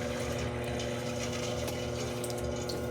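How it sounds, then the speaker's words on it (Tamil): A small amount of water is poured into idli and dosa batter as it grinds in a wet grinder, with a steady, loud whir and churning that runs unbroken throughout. "கொஞ்சமாக தண்ணி ஊற்றி எங்கே பாரு"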